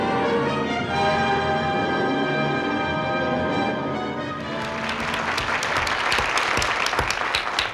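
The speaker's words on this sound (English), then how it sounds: "This gentleman, who most certainly is worthy of the applause, is Scott Crossfield" A 1959 television studio audience breaks into applause, starting under a musical passage and then swelling into loud, dense clapping from a large crowd.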